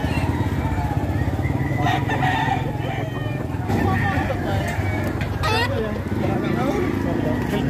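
A rooster crows at a chicken market in Padre Garcia, Batangas, rising over a steady crowd babble and clucking fowl, with a voice talking nearby throughout.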